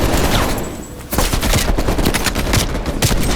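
Heavy machine gun fire in the Call of Duty Cold War campaign, a loud, dense burst of rapid shots that pauses briefly then resumes in a sustained roaring fusillade, close and harsh.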